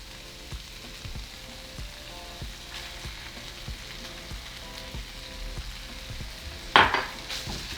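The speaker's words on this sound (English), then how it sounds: "now we're going to add our refried beans" Ground beef and refried beans sizzle and fry steadily in a pan, with soft stirring scrapes throughout and a sharp clatter of a utensil near the end; no voices.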